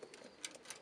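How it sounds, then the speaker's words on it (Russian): Faint, brief flutters and soft coos from a pigeon somewhere in the background, very quiet and distant. "Ну вот голубь, который прилетел на заднем плане, отвоевал гнездо почему-то."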